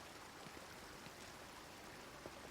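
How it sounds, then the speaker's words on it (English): A gentle waterfall in the game Everybody's Gone to the Rapture gives off a constant soft rushing wash, faint and even, with light trickling detail throughout. "Lovely waterfall."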